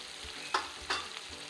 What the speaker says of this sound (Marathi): मसाला आपला छान परतून घ्यायचा आहे